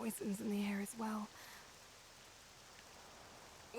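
A voice speaks briefly at the start, then soft, steady rain hiss from the video game Octopath Traveler 2 continues alone at low volume.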